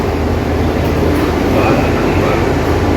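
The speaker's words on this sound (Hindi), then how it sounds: "अभी यहाँ से मैंने द्वारका वाली मेट्रो पकड़ ली है" Inside a crowded Delhi Metro train on the Dwarka line, a steady loud rumble and rolling hum run throughout with no clear breaks.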